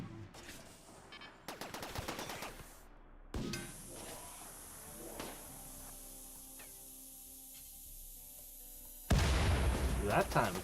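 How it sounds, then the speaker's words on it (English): Long explosion in the Rimworld video game, a series of sharp cracking bursts and hissing roar stretched over several seconds, ending with another loud broadband blast. "That time it gave a nice long explosion."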